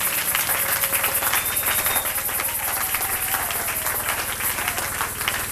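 A church congregation cheers and applauds loudly and steadily throughout, a dense wash of clapping and crowd noise with no pauses.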